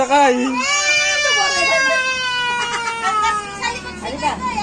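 A young child cries loudly and continuously in a wailing, pitched-up sob that rises and falls, close by, while adults talk and coax nearby during a playful outdoor ride.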